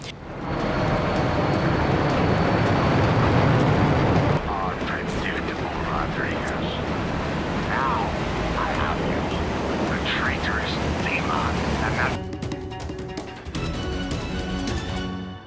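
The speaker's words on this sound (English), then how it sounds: "Another mission is hijacking a cargo plane." Cargo plane engine roaring in Just Cause 3 during a mission to hijack the aircraft: a loud, steady, broadband drone fills the whole stretch, shifting in tone partway through and later mixed with clattering game effects.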